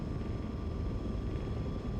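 Steady, dense jet engine roar from the video game XCOM 2, a loud continuous broadband rumble with a faint tonal whine, constant throughout with no talk.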